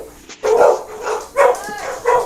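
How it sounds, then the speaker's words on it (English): Several dogs bark in short, loud bursts close by, three or four separate volleys spaced about half a second apart, with no talk over them. "dogs are barking"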